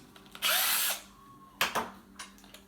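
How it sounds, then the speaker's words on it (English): A cordless drill whirs loudly in one half-second burst, followed by a couple of shorter, quieter blips and clicks, close up in a quiet workshop with no talking. "All you need, cordless drill."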